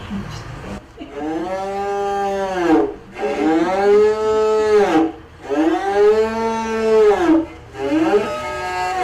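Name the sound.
cow mooing imitated in traditional music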